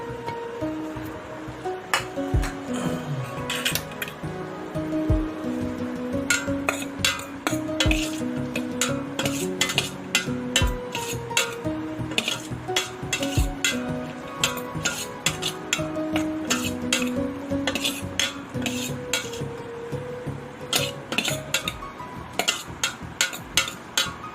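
Onions fry in hot oil for an egg and potato curry, a steady sizzle under repeated sharp scrapes and clinks of a spoon stirring against the pan, close and continuous.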